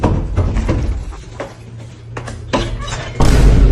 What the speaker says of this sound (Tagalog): sino ba yung kumakatok-katok lagi na kumakatok dito yan?